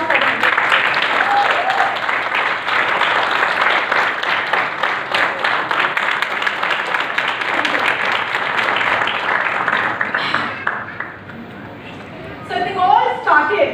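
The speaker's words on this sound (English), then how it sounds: "So can we have a huge round of applause for him?" A large audience applauds a speaker with dense, sustained clapping that fades slightly toward the end, where a few voices and scattered claps come through.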